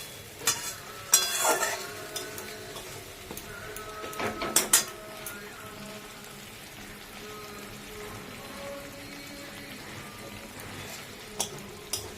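Spice paste frying in a pan while being stirred, a quiet steady sizzle with a few louder scraping clatters of the spoon near the start, otherwise soft and close, no talking.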